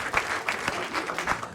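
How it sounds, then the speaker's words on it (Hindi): Enthusiastic audience applause on a comedy talent show stage, a steady wash of many hands clapping with brief louder swells, moderately loud and continuous with no speech over it. "एक बार जोरदार तालियां"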